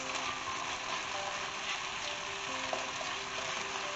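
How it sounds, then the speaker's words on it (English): Whole spices for chicken biryani, a bay leaf, green and black cardamom and cloves, fry in hot oil with a steady, dense sizzle that holds evenly throughout, close and fairly loud, with no talking. "Make sure you fry it properly so all the smell gets infused in this"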